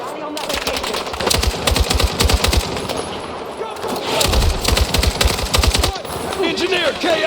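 Battlefield 6 combat with sustained automatic gunfire, rapid bursts of machine-gun fire in long rattling volleys broken by a brief pause, loud and dense with battle noise throughout.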